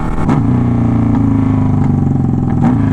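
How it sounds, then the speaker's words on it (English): Two diesel vehicles accelerate side by side in a race, a loud, close and continuous engine roar that holds steady with slight pitch swells and no voices over it. "You guys are both diesels. Like, they're both accelerating."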